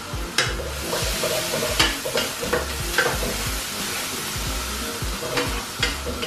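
Dried prawns for pad thai fry in a hot wok with a constant sizzle. Sharp, repeated scrapes of stirring break in at irregular intervals, close and fairly loud, with no talk.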